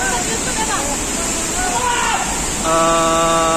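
Langkuik Tinggi waterfall in West Sumatra, the fourth and fairly large of six falls, roars as a steady broadband rush, with a crowd's babble in the background and a voice speaking over it partway through.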